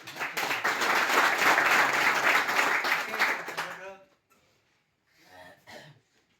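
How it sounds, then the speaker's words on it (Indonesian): A classroom of students claps in a Christian religious education lesson, a loud steady round of applause lasting a few seconds before dying out, then a teacher's voice speaks quietly. "kita tepuk tangan dulu untuk"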